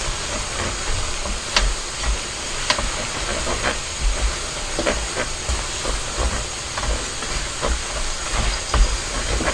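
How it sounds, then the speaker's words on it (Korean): Spicy fire noodles, Buldak ramen with sauce and mushrooms, stir-frying in a pan, giving a loud, continuous hiss and sizzle with scattered crackles and scraping clicks throughout. "이렇게 양념 넣고 볶기만 하면 되잖아 볶아 볶아"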